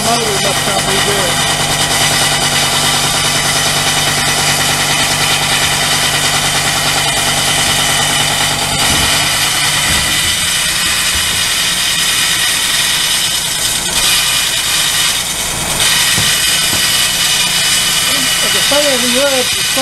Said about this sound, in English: I think the bearings in my motor must not be good.